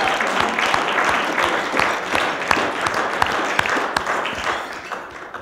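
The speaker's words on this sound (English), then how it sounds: "let's give a huge round of applause to all the folks that make that" An indoor audience gives a sustained round of applause, dense clapping from many hands carrying on steadily throughout.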